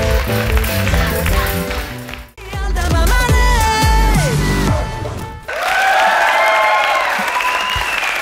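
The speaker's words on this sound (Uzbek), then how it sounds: "Mana bu olqishlar sizga emas" Audience applause at a live Uzbek talk show taping, a steady wash of clapping that swells, dips briefly, then resumes loudly, mixed with music and scattered cheering from the crowd.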